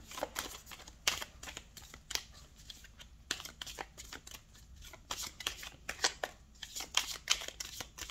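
Tarot cards being shuffled by hand for an Aquarius reading, a steady run of crisp riffling snaps and flutters repeating close up, with no voices over them.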